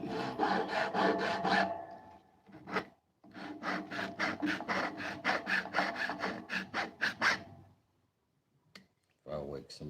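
Wood being sanded by hand with rapid back-and-forth rubbing strokes, a loud rhythmic rasping in bursts with short pauses between runs.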